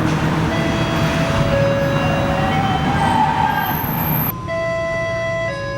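Inside a TTC streetcar or LRT vehicle, steady rumbling motion and cabin noise fill the space, with faint tonal lines and a high chime-like tone near the end as the closing-door signal sounds.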